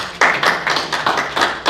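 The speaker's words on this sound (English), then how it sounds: "Give yourself a round of applause" Attendees at a town hall meeting clap in a small, close group, with distinct rhythmic hand claps in uneven bursts, fairly loud and near.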